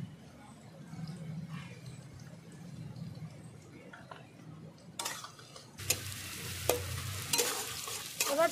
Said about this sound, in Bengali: এবার পেঁয়াজটাকে ভালো করে আমি লাল করে নেব একটু